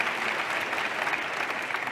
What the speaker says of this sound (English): Can you please give us our speaker a round of applause?